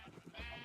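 Sheep bleating in Minecraft, a short, quiet wavering bleat with no one talking over it.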